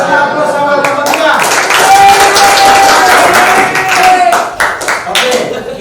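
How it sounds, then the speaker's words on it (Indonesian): A classroom group of students bursts into loud, sustained clapping for group 3, dense and close, fading unevenly near the end, with a teacher's voice and other voices talking through it. "kasih aplaus sama kelompok 3"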